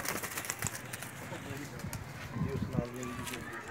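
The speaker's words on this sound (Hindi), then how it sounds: "ब्रीडर कबूतर।" Breeder pigeons in a loft coo in low, soft bursts among rustling and scattered clatter, with someone talking over them throughout.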